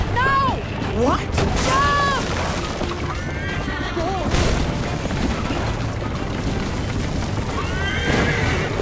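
A horse whinnies loudly twice in the Assassin's Creed Chronicles game, set in 1768 New Orleans, over a dense din of booms and gunfire, with further neighing near the end.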